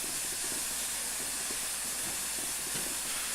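A big steam locomotive, Tornado, on a heritage railway gives a steady, faint continuous hiss of steam with low rumbling beneath, no talk over it.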